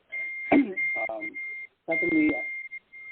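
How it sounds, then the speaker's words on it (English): A phone notification beeps as a steady high electronic tone running through and between a man's speech, the beeps sounding alone in a short pause. "I'm not sure what the beeping is. That's okay. That's my phone."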